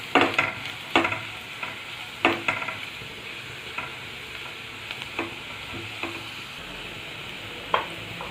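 Onions with turmeric and salt being stirred in a pan while frying, with sharp scraping knocks of the spoon at irregular intervals over a quiet, steady sizzle.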